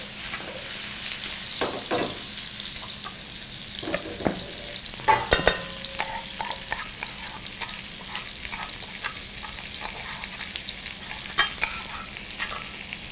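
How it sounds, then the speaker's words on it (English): Harissa and ketchup are stirred together for salsa brava, with a spoon clicking and scraping against a bowl in scattered taps and a few sharper knocks, steady and close. "We're going to mix up our Salsa Brava really quick. I'm going to do about equal parts of harissa and ketchup."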